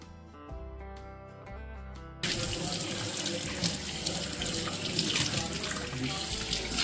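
Raw chicken is washed by hand under a running kitchen tap, a loud, steady, close rush of water and splashing that starts abruptly after a couple of seconds of quieter tonal sound.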